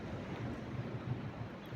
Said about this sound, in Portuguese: Um lugar lindo, lindo aqui à beira-mar.